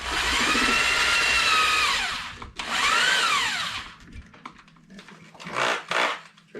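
A power drill bores a hole for a flanged bearing in two loud whining bursts that rise and fall in pitch as the bit spins up and slows, followed by shorter, quieter scraping and rubbing sounds.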